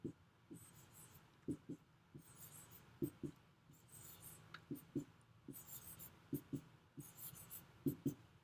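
Pen drawing out a math problem on paper, faint scratchy strokes and taps in an irregular rhythm, close but quiet.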